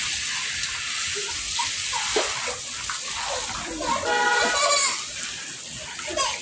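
Water splashing and sloshing as children practice swimming in a tub, continuous watery churning and running water at close range, with children's voices talking and shouting over it.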